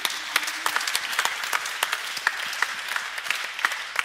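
A conference audience gives a round of applause, dense crisp clapping with individual sharp claps standing out, steady and sustained for several seconds without voices on top.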